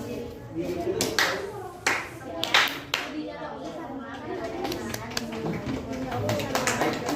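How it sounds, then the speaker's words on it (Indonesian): High school students in a classroom clap after a group presentation, the claps coming in bursts that rise and fade over several seconds, mixed with chatter and children's voices close by. "Tepuk tangan."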